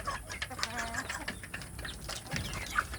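Young village chicks (ayam kampung) being raised on a poultry farm peep in a busy chorus of short, high chirps, many overlapping calls close by with faint background noise.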